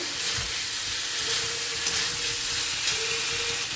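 Potato poppy seed curry (aloo posto) with onion fries and sizzles in a pan while being stirred, a steady hissing sizzle broken by soft scraping strokes, with no talking.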